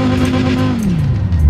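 Engine of a Cyberpunk 2077 car driven in the racing game Forza Horizon 4, a loud, steady hum whose pitch sags downward as the revs ease off, heard alone without talk.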